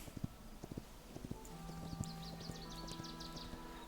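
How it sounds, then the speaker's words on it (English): Horse hooves clip-clopping at a brisk gallop in the video game Hytale, a steady faint rhythm of hoof beats with soft game tones and chirps in the background. "So the horse is definitely a win now."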